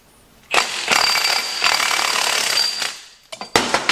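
A Milwaukee impact wrench on a 1-inch socket hammers at a bolt on a Bandit 1890XP chipper's twin disc clutch, a loud, close, sustained rattling burst that stops, then gives a few short final bursts.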